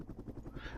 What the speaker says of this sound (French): Ah, c'est un hélicoptère américain,